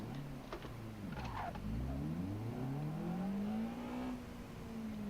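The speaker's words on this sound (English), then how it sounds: "Right, I was gonna change the engine sound." A car engine in a driving game mod revs up and down in smooth rising and falling sweeps, fairly quiet and alone, easing off toward the end.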